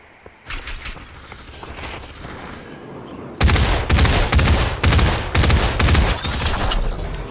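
Loud bursts of rapid gunfire from the video game Population: One: a faint stretch of shooting, then heavy repeated volleys close up.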